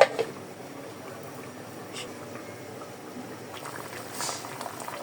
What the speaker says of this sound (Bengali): এই তো তরকারিটা অলরেডি মাছ দেওয়ার পরে দিয়ে বলক এসে পড়ছে